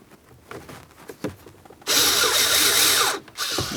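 Power drill driving mounting bolts on a Ford Transit 250 wiper switch, a high whirring run of over a second after some light handling clicks, then a brief pause and a shorter second burst, close and loud.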